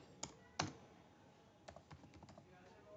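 Code being typed on a computer keyboard, with two sharp isolated keystrokes followed by a quick irregular run of lighter clicks, close and fairly quiet.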